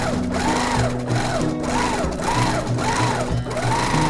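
A sewing machine quilts a leaf design along the leaf stem in rapid, steady stitching bursts that pulse in a regular rhythm, close and loud.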